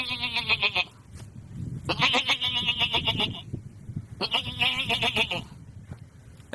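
A man imitates a baby goat with his voice. He gives three separate, nasal, wavering bleats with short pauses between them, close and clear.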